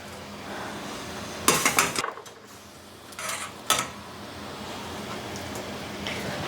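Hazelnuts scooped out of a pot of hot water with baking soda, giving a few sharp clinks and scrapes of a utensil against the pot around the middle, with quieter handling and a steady low background hiss.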